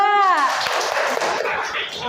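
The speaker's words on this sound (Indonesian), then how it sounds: "Beri tepuk tangan untuk kelompok 2" Classroom applause for a student group walking to the front, a burst of dense clapping that starts under a voice and carries on steadily for about two seconds.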